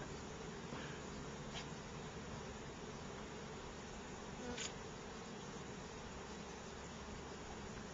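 Honeybees buzz around a hive in a steady, faint droning hum that continues throughout with no one talking.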